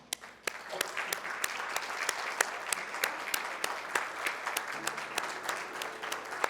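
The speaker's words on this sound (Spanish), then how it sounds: "Denle un aplauso a nuestro Dios." Church congregation applauding together during a worship service, a dense, steady wash of clapping that runs the whole time, with a few sharper claps standing out near the front.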